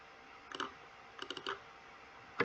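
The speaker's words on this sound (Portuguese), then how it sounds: "Você vai dar 2 cliques." A computer mouse clicks in quick pairs, crisp and close, with a few groups of taps spread over a quiet background and one last sharper click near the end.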